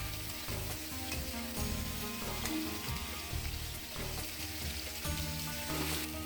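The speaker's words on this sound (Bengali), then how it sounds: "এর মধ্যে ওই মেটে আলু আর ফুলকপিটা বেগুনটা ভেজে নিচ্ছি।" Pieces of yam, cauliflower and eggplant fry in a pan with a soft, continuous sizzle and crackle, and occasional stirring clatter sounds close by with no talking.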